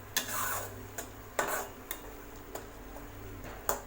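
Tomato thokku with masala powder being sautéed in a pan, with a spoon knocking sharply against the pan in irregular clinks over a low, steady sizzle, and no talking.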